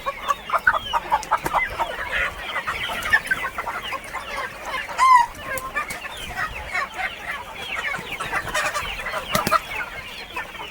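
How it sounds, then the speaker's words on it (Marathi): Free-range country hens cluck and squawk restlessly at night on a village poultry farm, a dense, continuous chorus of overlapping calls with one louder squawk standing out midway. "त्या कोंबड्या परेशान व्हायला लागल्यात"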